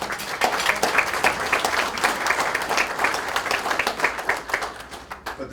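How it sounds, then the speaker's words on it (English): An audience at a bank fraud seminar giving a round of applause, sustained clapping from a room of people, lively and fairly close, tapering slightly toward the end. "So give them a round of applause, please."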